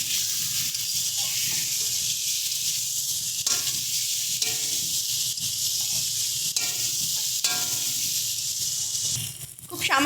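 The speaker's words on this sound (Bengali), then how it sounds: "বেগুনটা দিয়ে সুন্দর করে মশলার সঙ্গে কষিয়ে নেব।" Pre-fried eggplant pieces cooked down with spices and salt in a pan for a potato-eggplant curry give a steady, bright sizzle throughout, with a few soft stirring scrapes and a voice faintly underneath.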